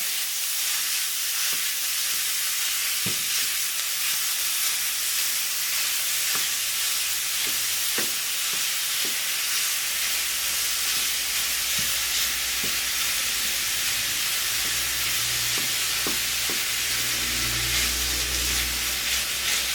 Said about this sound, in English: now we're just going to brown our ground beef